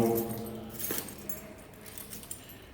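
A brief metallic jingle of a door key on a neck cord near the start, then softer clinks and handling noises close by.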